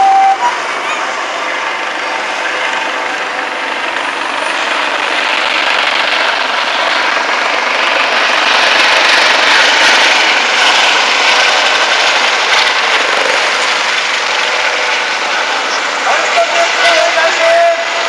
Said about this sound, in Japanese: ヘリコプターが飛来してまいりました。